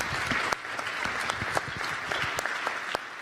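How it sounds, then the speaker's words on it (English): Audience applause after a panel session at a plenary conference, steady dense clapping throughout, moderately loud and sustained with no voices over it. "please, a round of applause for our panelists"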